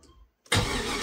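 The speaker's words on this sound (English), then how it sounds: "let's just see how horribly it runs with the mass airflow sensor not connected to the throttle body" An LS-swapped G-Body car engine with its mass airflow sensor disconnected catches and starts running roughly after a brief quiet moment, loud and close.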